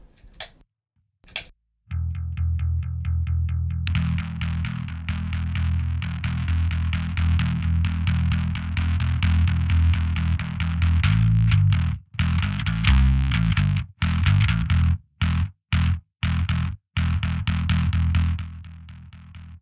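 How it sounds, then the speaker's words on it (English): Bass guitar through a Colossus pedal on its Octavia fuzz preset, a thick distorted octave-up tone played in sustained notes and then choppy staccato bursts with gaps, close and loud. "Now, listen the OCTAVIA fuzz."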